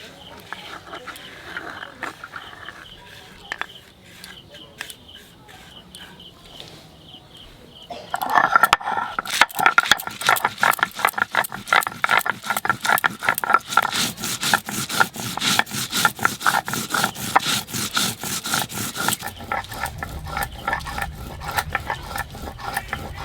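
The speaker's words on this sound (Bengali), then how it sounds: "জিরে, সর্ষে, কাঁচা লঙ্কা, হলুদ আর লবণ একসঙ্গে বেটে নেব।" Cumin, mustard seed, green chili, turmeric and salt are ground together by hand on a stone, first with faint scattered scrapes, then a loud, fast, continuous rasping grind at close range.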